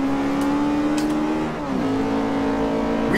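An EK9 Honda Civic Type R with a B16B engine in the Forza Horizon 2 racing game revs hard and continuously, its high-pitched engine tone climbing, dipping briefly at a gear change, then climbing again, loud and alone.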